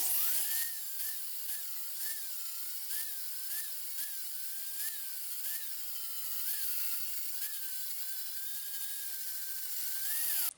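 A drill press bit grinding into metal with a high whining pitch that wavers in repeated cycles, steady and close, with no talking.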